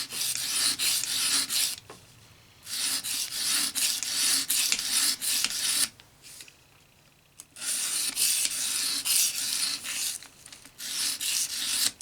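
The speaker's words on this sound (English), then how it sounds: "I'm going to grind on this area of the knife just a little bit more to kind of equalize it." Knife bevel being ground on an EdgePro Apex sharpener, rhythmic rasping strokes of the stone against steel, close and steady, broken by two brief pauses.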